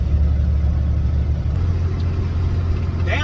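Car engine held near 2,000 rpm as the driver lifts off the gas to shift into fifth gear, a loud close low rumble that steadies and drops slightly in pitch, no speech.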